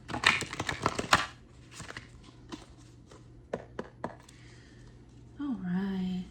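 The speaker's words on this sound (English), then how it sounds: "let's do a quick shuffle here." A flurry of crisp card riffles and taps, followed by a few scattered flicks as cards settle, close by; a voice begins speaking at the end.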